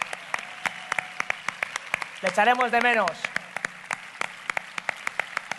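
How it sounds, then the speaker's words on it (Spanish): An audience at the Gorkas 2022 awards gala claps steadily in scattered, rhythmic beats, swelling briefly into a fuller burst of applause while someone speaks over it. "Un fuertísimo aplauso para Garban, que se va."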